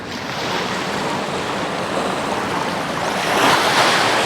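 Sea waves washing against the shore during a sunrise seaside session, a steady broadband surf wash with light wind noise that swells slightly louder toward the end.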